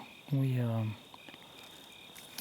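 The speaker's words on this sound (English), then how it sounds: "Crickets." In a canyon at dusk, a single loud, buzzy cricket chirp rings out briefly, followed by faint scattered cricket chirping over a quiet background with a steady high insect drone.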